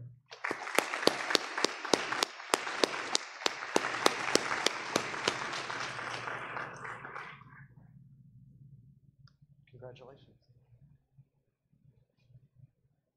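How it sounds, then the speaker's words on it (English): Applause from an audience at a Board of Education meeting honoring a student: a few seconds of dense clapping that thins out and fades, with scattered late claps trailing into near quiet. "let's give a round of applause for Noah Averett"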